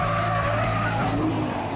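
A Nissan GTR driven in race mode with loud, continuous engine roar and tyre noise, close and sustained, with a voice faintly underneath.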